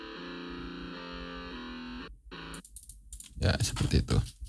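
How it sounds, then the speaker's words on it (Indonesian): Distorted electric guitar chords played in music production software for a pop ballad arrangement, sustained and layered for about two seconds, cut off, then someone speaks over the track. "ada distorsi gitar ya"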